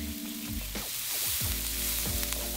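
Garlic sizzles steadily as it hits soft, sweet onions in a frying pan, a close, constant frying hiss with some stirring.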